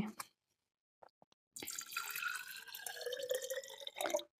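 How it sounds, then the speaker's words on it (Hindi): Water pours steadily into the glass base of a baseball-style hookah, a splashing, gurgling stream running for a few seconds after some brief faint drips and taps. "इसको स्टेम हम इसमें डालते हैं पानी"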